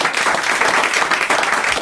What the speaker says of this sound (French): Allez, on vous applaudit